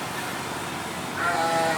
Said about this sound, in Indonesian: Ini jenis kambing.